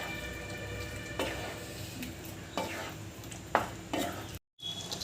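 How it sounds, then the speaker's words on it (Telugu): Chicken being mixed with yogurt and chili powder in a pan, soft scraping stirs with a few louder clanks of a utensil against the pan over steady low background noise, no talking. "కాస్త పెరుగు వేసుకుందామండి. దీన్ని ఇలా దగ్గరగా కలుపుకోవాలండి."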